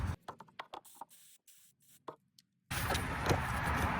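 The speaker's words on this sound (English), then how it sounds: "let's go and spray our freeze off right there" Spray penetrant hisses onto an upper heater hose of a Ford Ranger / Mazda B truck, a loud continuous spray starting after a series of short clicks and taps of handling nearby.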